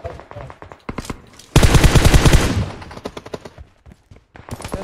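Gunfire rattles in a mobile shooter game during a clan team fight: rapid close bursts of shots, then a dense loud volley lasting about a second, followed by scattered further shots.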